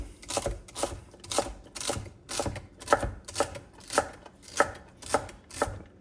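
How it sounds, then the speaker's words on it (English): Celery stalks being chopped into small pieces with a knife on a cutting board, about a dozen crisp, evenly spaced chops close by, with no talk. "I'm starting with 3 sticks, and I like to cut them up fairly small"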